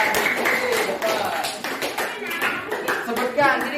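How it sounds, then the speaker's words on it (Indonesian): A small group of schoolchildren clap hands for a classmate in an Indonesian classroom, with uneven, close claps mixed with children's voices and chatter throughout. "Kasih tepuk tangan untuk Gede"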